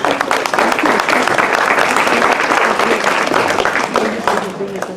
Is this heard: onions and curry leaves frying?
no